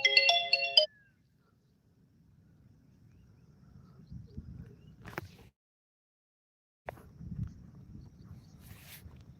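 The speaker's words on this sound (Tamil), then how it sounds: "ஃபோன் வந்துகிட்டே இருக்குது" A phone ringtone plays a short electronic melody at the start, loud and clear, and then cuts off. Soft rustling and handling noises follow, with scattered thumps.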